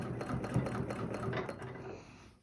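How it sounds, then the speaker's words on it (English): A sewing machine stitches an arc along a quilting ruler with a quick rhythmic clatter of the needle, running steadily before slowing and trailing off. "I'm going to stitch up that arc"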